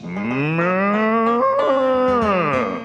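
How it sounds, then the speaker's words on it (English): A man-eating cow in an animated comedy gives one long, loud, close moo lasting nearly three seconds, rising and then falling in pitch, with no talk over it. "You hear that? The man-eating cow votes for me!"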